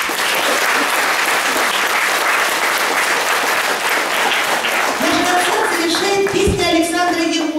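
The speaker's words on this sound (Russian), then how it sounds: "Аплодируйте друг другу," Audience applause at a children's choir concert, dense and steady clapping from a full hall, loud throughout, with a voice beginning to speak over it near the end.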